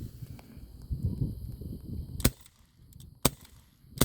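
Sharp shots from a CO2-powered gun, two crisp reports spaced about a second apart against low background rumble and handling noise.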